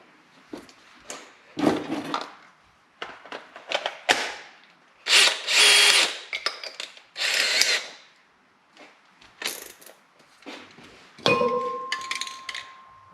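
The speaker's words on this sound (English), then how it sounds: "If I was to try to drill a 5/8 hole directly with this guy" A power drill whirs in repeated bursts, starting and stopping as it bores a 5/8-inch hole in metal on a Kubota M7060 tractor steering assembly, using drilling fluid, with some metallic clinks and a brief high whine near the end.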